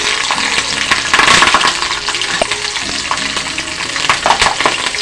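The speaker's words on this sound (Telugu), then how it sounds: "జీడిపప్పు జీడిపప్పు వేగాక" Cashews fry loudly and close in a pan, a dense, continuous crackling sizzle with light stirring scrapes, cooked for a Katte Pongali temple offering.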